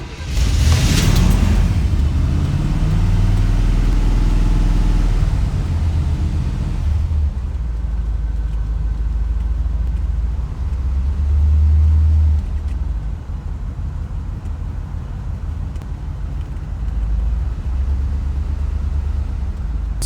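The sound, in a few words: car engine starting up and idling after spark plug change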